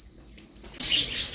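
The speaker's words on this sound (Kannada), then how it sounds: "ಹಕ್ಕಿಗಳು ಚಿಲಿಪಿಲಿ" Birds chirping inside a dim zoo aviary, a steady high twittering chorus that swells into brighter, busier calls partway through, with no talk.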